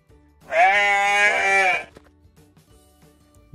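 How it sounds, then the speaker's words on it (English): A goat gives one long, loud, wavering bleat lasting over a second up close, followed by quiet. "Goat."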